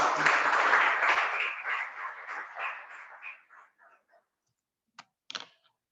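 A burst of loud audience applause at a religious discourse gathering fades out over several seconds, ending in a few scattered last claps.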